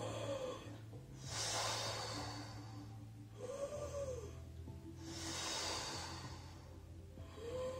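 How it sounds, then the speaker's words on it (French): A child breathes slowly and audibly during a Pilates exercise class, with soft airy breaths repeating about every two seconds over a faint background hum. "J'inspire."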